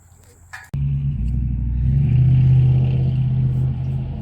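Engine of a 1955 Ford Panel van with a carburetor that needs adjusting starts up after a brief clatter, then runs as a loud, steady low rumble with an uneven idle, close by and with no voices.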